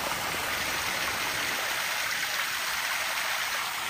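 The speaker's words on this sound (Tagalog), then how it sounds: "Mga umaagos yung galing ng bundok." Mountain stream flowing beside a Catholic cemetery in Plaridel, Samar, a steady, close, full-band rush of water with no break and no voices.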